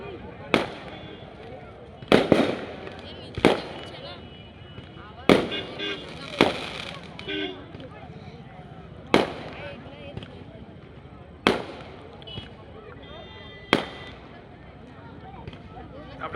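Fireworks burst in a series of sharp, loud bangs spaced a second or two apart, each with a crackling tail, while a voice talks between them.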